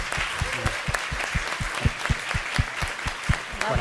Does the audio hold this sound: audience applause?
yes